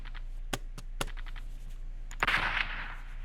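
A few sharp gunshot cracks ring out in a video game, sparse single reports followed by a brighter burst with a hissing tail over a low constant hum.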